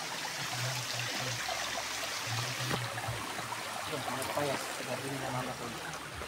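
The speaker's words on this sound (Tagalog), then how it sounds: "Yung sapa dito." A creek flows steadily near a house, a constant close rushing and trickling wash of water throughout, with a low hum and some voices in the background.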